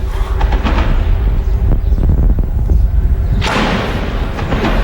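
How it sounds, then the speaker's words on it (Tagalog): A mortar round explodes amid fighting with the Maute group, giving a loud, deep, rumbling blast that swells suddenly near the end. The blast follows a continuous low roar of distant gunfire and thumps. "Mortar."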